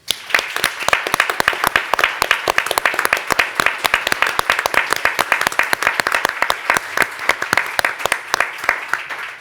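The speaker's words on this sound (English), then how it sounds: "I would like to ask for a round of applause to honor his memory" Audience applause at a journalism event honoring a late freelance reporter, dense distinct claps from a room of people, steady and fairly loud for about nine seconds before fading.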